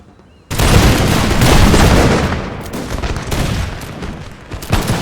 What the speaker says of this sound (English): the cannons, which are still firing, despite our best efforts to stop them with our own cannons earlier in the battle